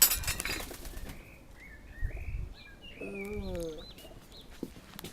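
Pigeon wings flapping in a quick burst outdoors, with bird chirps and background chatter from people nearby.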